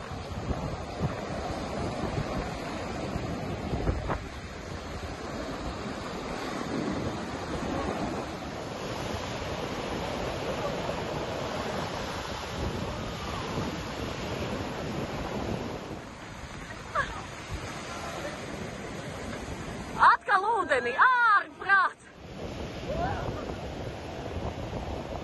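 Sea surf breaking on a sandy beach in Cyprus in December, heard as a steady broadband wash of waves mixed with wind buffeting the microphone, with a short louder burst of splashing near the end.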